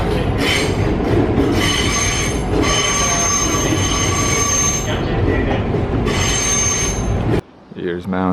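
Aboard a train heading to Mount Fuji in Japan, metal wheels squeal in loud, high-pitched bursts over a constant rumbling rattle, then the sound drops away abruptly at the end.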